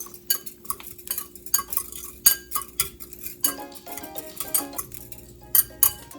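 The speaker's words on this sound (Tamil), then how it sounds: "இன்னொரு நல்ல மிக்ஸ் கொடுத்துக்கலாம்" A utensil mixes egg and avocado in a bowl with a busy run of quick clinks and scrapes against the dish, close and fairly quiet, with no talking.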